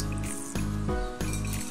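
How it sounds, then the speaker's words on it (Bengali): Hot caramel poured into a pudding pan, giving a steady sizzling, watery pour that runs continuously across the clip with slight surges, close and moderately loud, with no talking. "আমি এখন ক্যারামেলটা যে পাত্রে আমি পুডিংটা বানাবো তার মধ্যে গরম গরম দিয়ে দিচ্ছি।"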